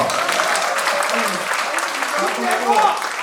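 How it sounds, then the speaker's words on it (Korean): Applause fills the room at a Lions Club anniversary and president installation ceremony in Busan, a busy, close clatter of many hands with a voice talking over it throughout. "박수 한번 주시죠"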